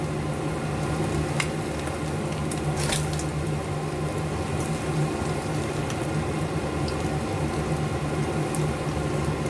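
Chinese chive flour cakes fry in hot oil, giving a steady, even sizzle with soft bubbling and crackle that runs the whole time, close and moderately loud, with a few brief sharper pops and no talking.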